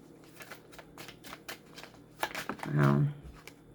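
Soft riffling of a tarot card deck being shuffled, light repeated flutters ending in a louder bridging burst, with a quiet voice at the edges.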